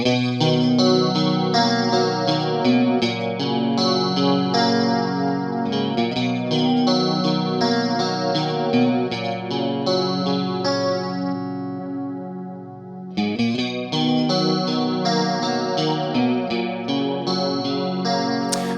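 Electric guitar through a Boss chorus pedal on its second mode, producing shimmering, swirling chords and melodic lines that play steadily and loudly, with one brief pause before resuming.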